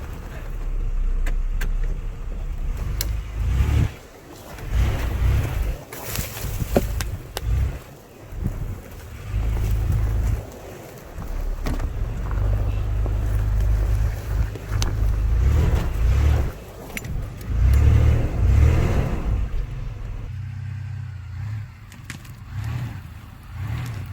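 A cheap Chevy Blazer drives through snow on new tires, its engine droning steadily with surging and easing throttle, loud and close for the whole stretch with no talk.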